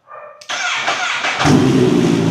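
A 2023 Kawasaki ZH2 Supercharged motorcycle with a carbon exhaust fires up: a short starter whir, then the engine catches and settles into a loud, close, rising idle.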